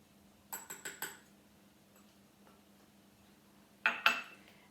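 Basil leaves and garlic dropped into a pestle and mortar for fresh pesto give a quick run of light clinks and taps, then a pause and two louder knocks near the end, close and clear over a quiet room hum.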